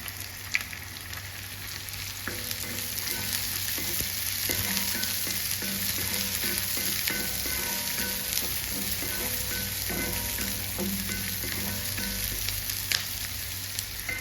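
Ginger, garlic and chopped shallots fry in hot oil in a pan for mushroom masala, a constant close sizzle broken by the rhythmic scrape and clink of a spoon stirring, with no voices.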